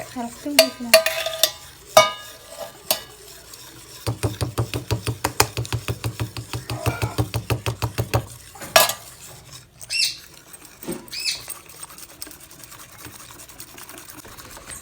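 A spoon stirs flour batter with jaggery syrup in a metal pot, giving a fast, rhythmic run of scraping clinks in the middle, with scattered knocks and clatters before and after.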